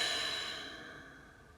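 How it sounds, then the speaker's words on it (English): A soft, breathy exhale during a yoga exercise, a single long out-breath that fades steadily over about a second and a half, close and quiet. "and breathing out."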